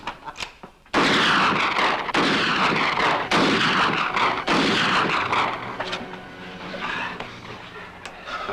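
Loud volleys of gunfire and heavy shots in a radio drama, a series of booming bursts with sustained rumbling noise between them, fading toward a quieter tail.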